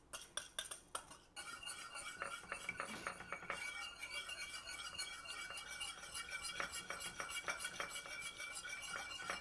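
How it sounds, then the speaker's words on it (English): Yogurt stirred into hot sauce in a pot for an Afghan ash noodle soup, with repeated clinks and scrapes of a utensil against the pot, steady and close, a few sharper taps at the start. "Now we're gonna add the yogurt into the hot sauce."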